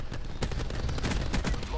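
Gunfire in Call of Duty Black Ops 4 during a Hardpoint match, a rapid burst of sharp automatic shots in quick succession, fairly loud and close, with a voice mixed in.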